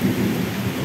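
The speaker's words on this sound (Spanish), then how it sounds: "Oiga los truenos." Steady heavy rain falling outside with a low rumble of thunder running underneath, a dense continuous wash of sound with no voices.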